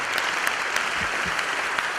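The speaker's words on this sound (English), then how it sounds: "Let's give one more round of applause for the Chancellor Hank Huckabee." Conference audience clapping for a chancellor, a short, steady burst of applause from a large hall, fairly close and without voices over it.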